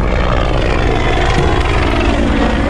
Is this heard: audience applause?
no